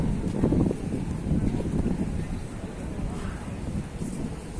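Gusty levante wind sweeps the Benidorm seafront, a rough, rumbling roar buffeting the microphone in uneven surges with no voices.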